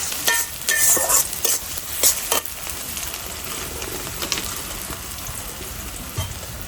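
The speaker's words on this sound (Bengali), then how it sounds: "কড়ার মধ্যে আমি তেল দিয়ে দিছি এখন একটা তেজপাতা দিয়ে দিব পেঁয়াজ কুচি" Chopped onion and a bay leaf fry in hot oil in a wok for a homestyle country-chicken biryani, giving a loud, steady sizzle with repeated stirring scrapes near the start, close up and without talk.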